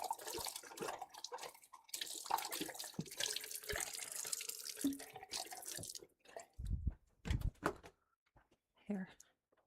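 Fresh water runs from a tap into a pet's bowl with a steady broadband rush for several seconds, then stops, followed by a few short knocks and splashes. A voice speaks over the start.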